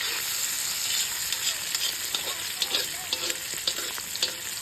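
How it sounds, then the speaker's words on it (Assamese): Pork pieces fry in a hot pan for pork and mustard greens, giving a steady close sizzle with scattered crackles and occasional utensil scrapes throughout. "মাংসটো ফ্ৰাই হৈ যিহেতু বইল কৰি সিজাই আছে"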